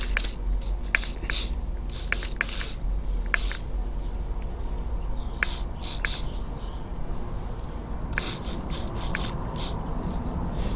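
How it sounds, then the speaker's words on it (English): Repeated short hissing spray bursts of brake cleaner close by on a jammed wheel of a Hobao Hyper 7 RC car, coming in quick clusters with brief pauses against a steady low background hum. "give it a quick clean using brake cleaner"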